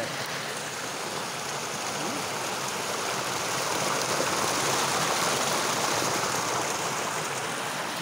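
Water flows at a mountain spring used as a village drinking water source, a steady broadband rushing and splashing, moderately close and continuous with no voices over it.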